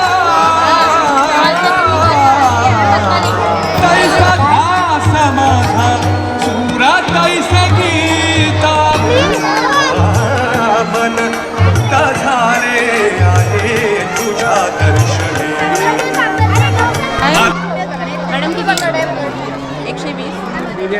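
Dense crowd chatter fills a busy school food fair where children sell homemade dishes like chicken vada and biryani, a steady loud babble of many voices with music-like tones running throughout.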